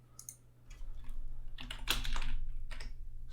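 Close keys tapping on a computer keyboard, a few short bursts of clicks with brief pauses between them, over a low steady hum and with no voices.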